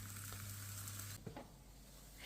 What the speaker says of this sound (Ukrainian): Трішки рослинної олійки і обсмажую млинці